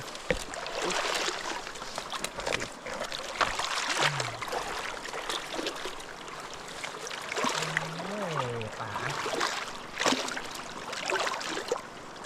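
The Moei River flows in a continuous rushing wash, close and steady, with faint reel or line tones during a fishing outing.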